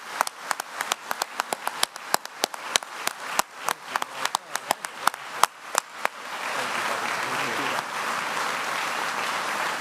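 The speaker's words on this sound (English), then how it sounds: "I think it's good if we could all give Cesar a round of applause" Applause at an International Code Council gala, opening as a few sharp, distinct claps that build and then merge into a steady, dense wash of clapping from the room.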